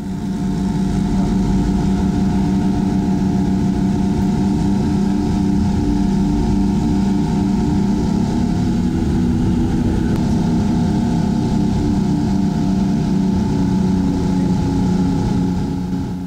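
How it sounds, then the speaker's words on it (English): Twin-engine earthmoving scraper with two 190 hp engines working dirt at a machinery show, a loud, steady diesel drone with a deep throbbing rumble that holds without a break. "he's still got his two engines as well, so that's a hell of a lot of horsepower to move one bit of dirt"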